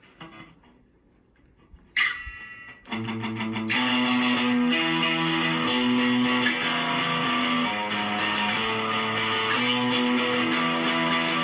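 After a quiet start and a brief strum, an electric guitar plays the one-finger version of a song's riff, a steady, driven chord pattern repeating for several seconds at moderate volume with no voices.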